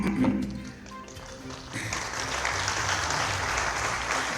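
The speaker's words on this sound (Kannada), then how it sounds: "ಕೊನೆ ಸಾಲಿಗೆ ಜಾಸ್ತಿ ಚಪ್ಪಾಳೆ ಹೊಡೆದಿದ್ದೀರಾ ಅಂತ ಗೊತ್ತು ನನಗೆ." An audience applauding at a public gathering attended by police, with a crowd of clapping that swells after a short lull and then holds as a dense, steady roar.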